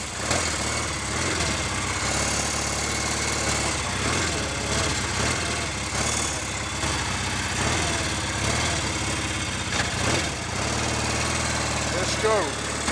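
A Royal Enfield Interceptor 750 Series 2 motorcycle engine runs on choke, a steady, loud, close mechanical drone with a constant rhythm that holds throughout, with faint voices partly underneath.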